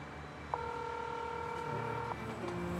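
A telephone is dialed to call someone, with a long steady tone and a few shorter tones at a moderate level over a quiet background hum.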